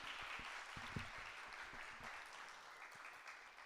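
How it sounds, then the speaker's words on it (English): An audience at a symposium gives a warm round of applause, a dense, steady clatter of many hands clapping together, heard from a slight distance at moderate volume. "I'd like you to please give her a warm round of applause."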